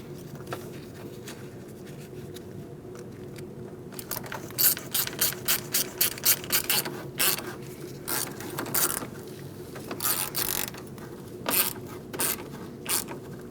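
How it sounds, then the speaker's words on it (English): A ratchet tightens a radiator hose clamp on a 2004-2012 Chevrolet Colorado 3.7L, starting after a quiet pause as bursts of rapid clicking strokes repeat in a close, uneven rhythm. "We're going to tighten up our clamp."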